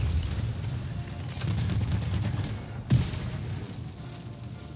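In the Helldivers 2 game, an armor-piercing support weapon fires at an Automaton Hulk, giving a single deep boom and impact against a low rumbling battle backdrop.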